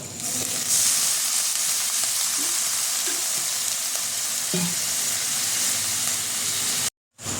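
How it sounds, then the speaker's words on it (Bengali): Mutton masala with ground spices fries in a pan, a loud, close, steady hiss and sizzle with a few light spatula scrapes as it is stirred, cutting out abruptly near the end. "আমি এটা ভালো করে নেড়ে নেব"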